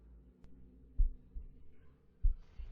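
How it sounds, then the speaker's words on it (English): A heartbeat sound effect during a tabletop horror role-playing session: faint, low, muffled thumps in a slow beat, two main beats over a quiet background hum. "the walls begin to vibrate, and the floors begin to vibrate in rhythm to a heartbeat sound"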